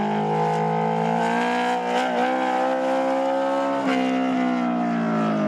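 A race car on course at an autocross solo event, a loud, sustained engine drone with steady pitch and brief shifts in tone as it drives, alone with no talk.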